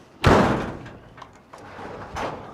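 A door slams shut with a sharp, loud bang up close, followed by a couple of softer thuds and rattles from the door settling.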